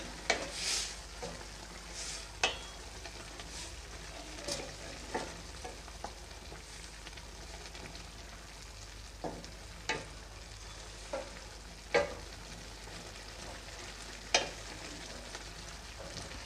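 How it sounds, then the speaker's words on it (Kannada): A spoon stirs vegetable Maggi noodles with Maggi masala in a pan over a continuous low sizzle, with occasional scraping clicks against the pan and no talking. "ಹಾಗೆ ನಾನಿಲ್ಲಿ ಮ್ಯಾಗಿ ಮಸಾಲಾನ ಸೇರಿಸ್ಕೊಳ್ತಾ ಇದ್ದೀನಿ ಇವಾಗ ಇದನ್ನ ಚೆನ್ನಾಗಿ ಮಿಕ್ಸ್ ಮಾಡ್ಕೊಳ್ಳಿ"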